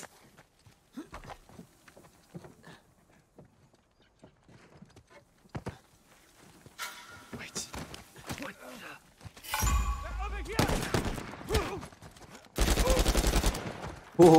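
Shotgun blasts in the video game Uncharted 4 come as loud booming shots in the later seconds, following scattered quieter gunfire, footsteps and game sounds, with someone talking now and then.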